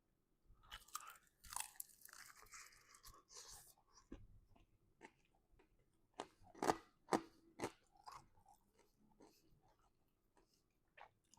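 Crunchy bites and chewing of air-fried pork belly strips, close and fairly quiet, with a run of sharp crunches in the middle and softer chewing toward the end.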